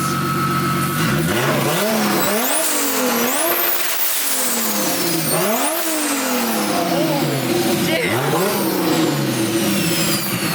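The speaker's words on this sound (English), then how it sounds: "Well, it is open downpipe, but it sounds fucking rowdy." A Nissan Skyline R34 with a turbocharged RB25DE+T and open downpipe revs hard again and again, each rise and fall loud, raspy and close, with no voices over the engine.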